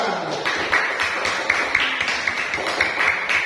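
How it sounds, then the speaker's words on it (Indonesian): A class of students applauds together, a dense wash of hand clapping at steady volume, fairly close, with light taps and murmured voices mixed in. "tepuk tangan untuk kita semua"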